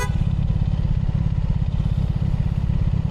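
A motorcycle rumbles along at a steady cruise, its engine a loud, close, continuous throb with a rapid pulsing beat and no speech.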